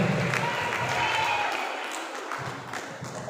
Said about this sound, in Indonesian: Tepuk tangan untuk Regu C.